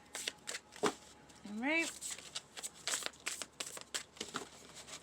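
A deck of tarot cards being shuffled at close range, giving repeated riffling and crinkling bursts through the clip, while someone talks over it.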